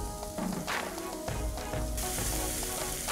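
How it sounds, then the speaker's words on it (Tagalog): Chopped onion and garlic sauté in a hot pan, giving a steady close sizzle and crackle with light stirring throughout. "Sunod na magigisa ng sibuyas at bawang."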